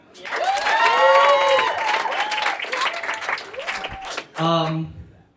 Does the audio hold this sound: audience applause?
yes